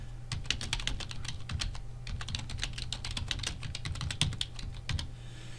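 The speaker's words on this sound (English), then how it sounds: "I'm just going to type in a little short description here." Rapid, uneven tapping on a computer keyboard continues for several seconds with clicky keystrokes over a faint low hum, fairly quiet and close.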